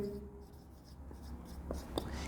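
Chalk or marker writing on a board in a maths classroom, a few short faint scratchy strokes under low room noise.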